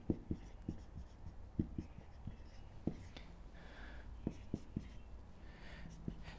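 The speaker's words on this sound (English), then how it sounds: "So let me write that down here." Pen or marker writing on a board during a talk about hair-loss blood work, a close series of short scratchy strokes and taps in irregular rhythm, quiet and alone with no talking.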